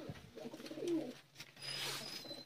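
Pigeon cooing from a male weshi (Sialkoti) breed pigeon, a low soft coo repeated twice with a brief pause between, moderately close, with faint background noise.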